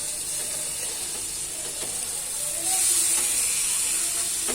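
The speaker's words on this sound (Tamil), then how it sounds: "இங்கிட்ட ஒரு பக்கம் மஷ்ரூம் சோட்டையால் கொண்டிருக்குது" Mushrooms sauté on a hot griddle, giving a continuous hissing sizzle that swells noticeably louder partway through, with a few faint clinks and no voices.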